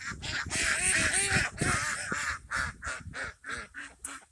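Pet ducks raised from young quack loudly and repeatedly close by, a dense chorus of overlapping honking calls that breaks into shorter separate bursts toward the end.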